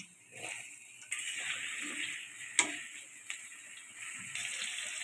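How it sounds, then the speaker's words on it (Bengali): Diced potatoes frying in hot mustard oil in a wok give a steady, close sizzle with scattered sharp crackles and pops. No one speaks. "ডুমো ডুমো করে আলু কেটে নিয়েছি সেগুলো তেলের মধ্যে দিয়ে দিচ্ছি"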